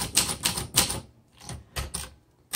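Typing on a 1973 Facit vintage manual typewriter, a run of sharp mechanical key strikes in uneven bursts with short pauses, close and clear with no talking.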